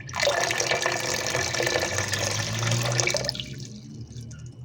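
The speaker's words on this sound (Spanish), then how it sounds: "Podemos pasar nuestros elotes por un poco de agua para quitar cualquier impureza que lleguen a tener." Corn cobs being rinsed under running water, a steady splashing rush close to the microphone that continues for several seconds and then stops.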